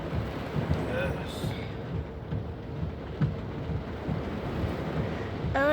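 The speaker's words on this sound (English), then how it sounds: "it's raining outside" Heavy rain falls outside in a steady, dense wash of noise that runs the whole time, with low gusty rumbles underneath and no voices.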